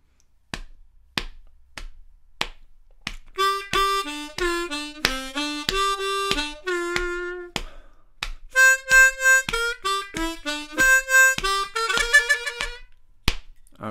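Reedy blues harmonica phrases in a rhumba blues, with bending, wailing notes, played as two lines in sequence after a few sharp percussive taps, loud and close with no talking.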